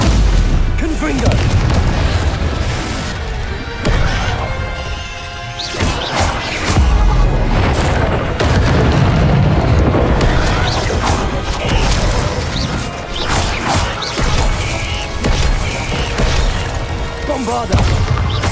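Repeated Confringo spell blasts in Hogwarts Legacy, a dense stretch of booming explosions and crashing impacts layered over busy combat noise, with spoken voices mixed in throughout.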